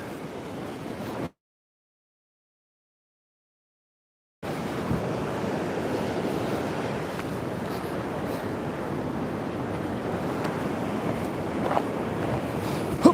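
Strong wind roars and buffets the microphone continuously, broken by a few seconds of dead silence early on.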